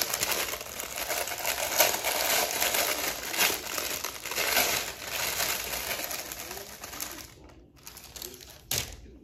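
Minimal packaging for Skinners footwear is handled close up, crinkling and rustling steadily. A few sharper crackles and a brief pause come near the end.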